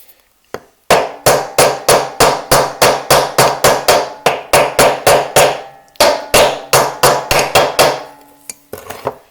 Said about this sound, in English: I'm taking the hammer and just hitting it and slowly moving.